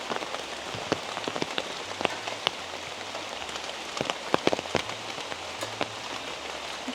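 Rain falling on wooden boardwalk planks around Kham Chanot island in Udon Thani, Thailand, a steady soft patter with scattered sharper drips tapping close by, continuous and fairly quiet.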